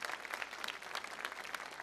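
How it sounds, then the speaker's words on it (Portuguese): A church congregation applauding a couple brought to the front, a steady, dense patter of many hands heard faintly and at a distance. "Pode aplaudir, porque é um milagre de Deus."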